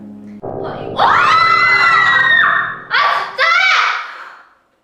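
A drawn-out scream rises and falls, followed by two shorter shrieks, loud and close, as a sound effect in a Korean horror story live broadcast.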